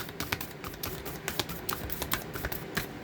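A deck of tarot cards shuffled by hand makes a steady, dense crackle of flicking and slapping card edges that runs without a break, close and moderately loud.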